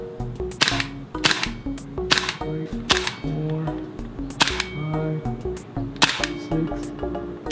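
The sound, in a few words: airsoft gas blowback pistol firing shots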